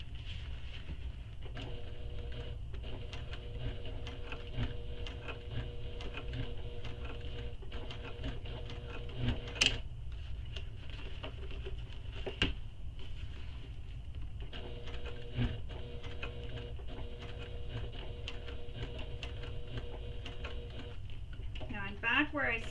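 A sewing machine top stitching a crossbody bag-backpack hums in a quiet, steady whir for a long stretch, with a few sharp clicks along the way.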